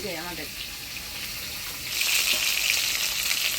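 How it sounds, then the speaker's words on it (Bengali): Bhola fish fry in hot oil with a dense, continuous sizzle up close that swells louder and brighter partway through. "মাছগুলো আমি লাল করে ভেজে নিলাম"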